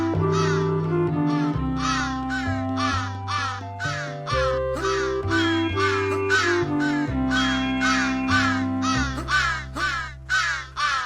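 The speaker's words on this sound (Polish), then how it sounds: "dużo tych wron tutaj jest." Crows caw repeatedly in a video game, a dense run of harsh calls in quick rhythm over a steady musical backdrop, loud and close.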